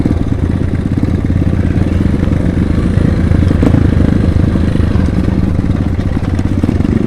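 A new motocross dirt bike rides a rough trail, its engine loud, close and continuous throughout, with a rattling, clattery drone.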